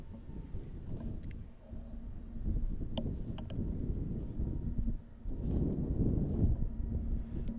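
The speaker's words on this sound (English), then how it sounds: "Quite windy, as you can hear." Wind at Amsterdam airport during plane-spotting, a steady low rumbling buffet against the microphone that swells and eases in broad surges, with faint distant higher tones at times.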